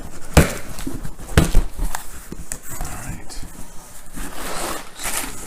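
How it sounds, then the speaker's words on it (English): A Kickstarter shipping package is sliced open with a blade and its material pulled upward, giving sharp tearing and scraping bursts and rustling, heard close up over steady background noise. "maybe just poke a hole here, and then cut up, pull up as opposed to down."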